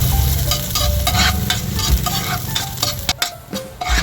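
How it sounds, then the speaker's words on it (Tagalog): Garlic fries in hot oil in a pan with a loud, continuous close sizzle, and a spatula stirs and scrapes against the pan now and then, no talking. "mainit na yung ating mantika kaya ilalagay na natin yung ating bawang"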